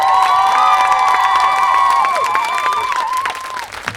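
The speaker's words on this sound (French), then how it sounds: "Un tonnerre d'applaudissements s'il vous plaît" A concert crowd applauds loudly with cheers and whistles, the clapping steady at first and then gradually thinning out.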